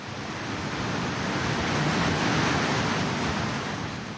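Rushing floodwaters driven by heavy rain in North Sumatra, carrying huge logs, make a steady, loud broadband roar that swells slightly midway and never lets up, with no voices.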